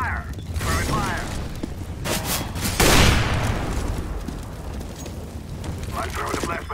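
Molotov incendiary grenade in Counter-Strike: Global Offensive bursts into a loud, sudden whoosh of flame about midway, then a sustained crackling roar; mechanical game clicks and faint voices sit around it.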